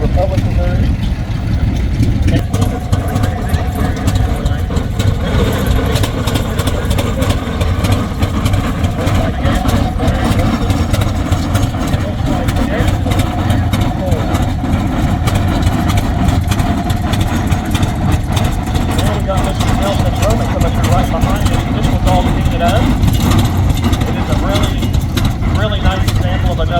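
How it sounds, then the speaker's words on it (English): An antique Rumley oil pull engine from the transition era runs steadily, a continuous loud throbbing chug with a deep low rumble that carries on throughout, with a voice talking over it. "This one's a model Rumley oil pump."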